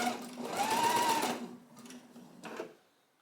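A sewing machine stitches off the end of a dart at a short stitch length, a fast close hum that runs about a second and a half, then fades, with a brief second burst.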